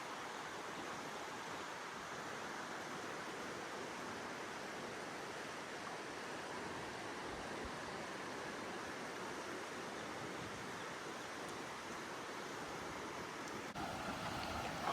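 Waterfall at Old Mill Park, a steady broadband rush of falling water that stays constant and close throughout, with no talking.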